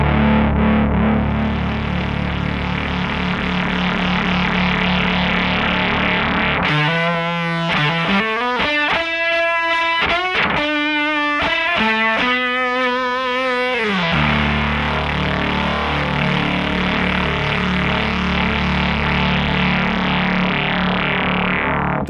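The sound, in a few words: West Coast style wavefolder distortion effect on synthesizer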